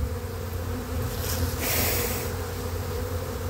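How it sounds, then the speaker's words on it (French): A dense autumn swarm of honeybees buzzes continuously and loudly close by, a steady droning hum with no pauses. "les abeilles forment d'abord un essaim ici"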